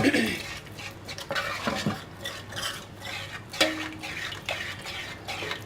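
Yogurt is mixed into a cooked tomato biryani masala in a pot, with a spoon scraping and clinking against the metal in irregular strokes over a faint sizzle, close and moderately quiet.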